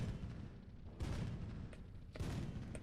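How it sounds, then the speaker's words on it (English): A 75mm auto cannon on a light tank in the Sprocket video game fires two fairly faint, booming shots about a second apart, over a low rumbling background. "it has basically a 75mm auto cannon"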